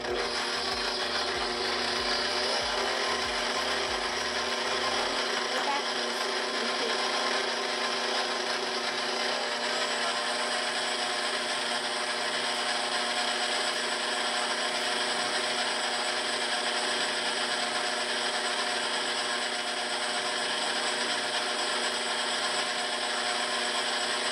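An electric mixer slowly blends cornstarch into coffee cake batter, a continuous whirring hum with a low rhythmic thump at the start, steady and close throughout.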